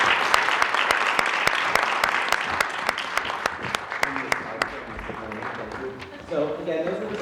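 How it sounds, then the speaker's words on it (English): A class receives a round of applause at a school board meeting: sharp, near claps come in a regular rhythm, then grow sparse toward the end as a voice and other room sounds take over. "Let's have a round of applause for our class."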